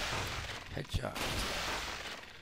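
A single gunshot in Resident Evil 4, a long-range headshot fired near a cave tower, cracking sharply once amid constant game background noise, with someone talking around it.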